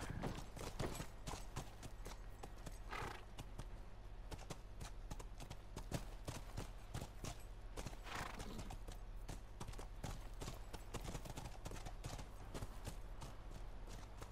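Rapid, fairly close horse hoofbeats pound in a continuous galloping rhythm in The Last of Us Remastered, with a low droning hum and occasional whinnies underneath.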